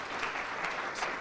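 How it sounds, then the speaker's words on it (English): Steady round of applause from an audience at a university student entrepreneurship programme launch, dense continuous clapping holding at an even level for the whole stretch with no voices. "Please just give her a round of applause."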